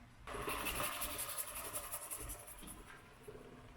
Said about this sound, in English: And we'll grate in some garlic.